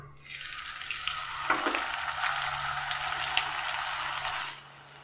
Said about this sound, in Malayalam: ഇനി ഇതിലേക്ക് നമുക്ക് ഓരോന്നായിട്ട് പൊരിച്ചെടുക്കാം